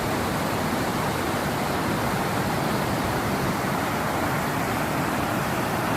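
Weaver Creek rushes along steadily in gold-prospecting country, making a constant broadband hiss of flowing water at even loudness throughout, with no voices.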